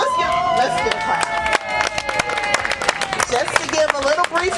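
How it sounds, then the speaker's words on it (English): An outdoor audience claps at a parklet ribbon cutting, sharp scattered hand claps close by, uneven and lively, with voices and chatter mixed in. "So let's give a clap."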